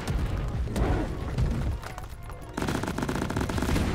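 Rapid sustained automatic gunfire from a Lok-1 smart rifle in a video game, dense bursts of shots with a brief lull before firing resumes, loud and close, no talking.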